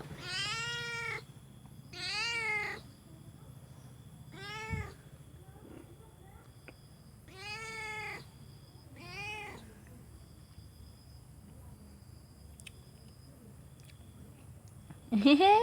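A domestic cat meows repeatedly at close range, with about six distinct, evenly spaced calls of varying length and quiet gaps between them, and a final sharp meow at the very end.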